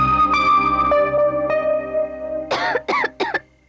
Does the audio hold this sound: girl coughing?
yes